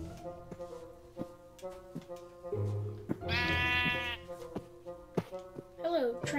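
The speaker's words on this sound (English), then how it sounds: "Hello, transparent sheep." A sheep in Minecraft played in VR bleats once in the middle, a clear wavering call over background game music and scattered clicks.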